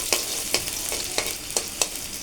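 Onion with ginger, garlic, turmeric, chilli and coriander powder frying in a pan, with a soft background sizzle and about seven regular scraping strokes of a spatula, close and distinct, no talking.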